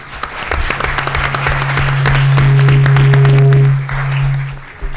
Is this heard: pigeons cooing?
no